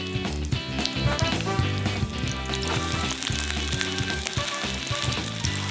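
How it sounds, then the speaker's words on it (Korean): Batter topped with cabbage, octopus and bacon sizzles loudly and continuously in a hot pan, with a dense crackling fry and occasional stirring or scraping clinks, no speech. "반죽을 차례로 올려 구워주면"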